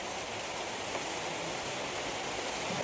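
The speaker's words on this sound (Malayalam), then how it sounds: "അതിന് മുന്നേ മഴ കിട്ടി ഗൈസ്" Rain falls in a village near Kozhikode, a steady, even hiss of drops with no distinct gaps and no voices.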